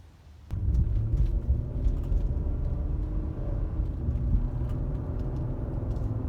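A 2016 Ford Explorer on a test drive after a throttle body replacement, giving a steady, fairly loud low rumble of engine and road noise inside the cabin that kicks in sharply after a short quiet start.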